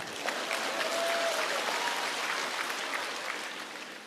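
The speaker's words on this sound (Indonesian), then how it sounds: "Tepuk tangan untuk wanita dong." Audience applause at a church sermon, steady clapping from a crowd that stays fairly even for about four seconds before stopping abruptly.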